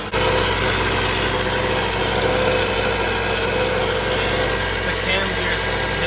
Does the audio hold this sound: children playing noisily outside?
no